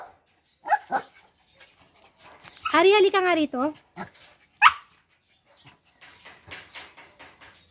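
A dog barks and whines in short bursts, including a drawn-out wavering yelp, while a person calls out nearby between the sounds.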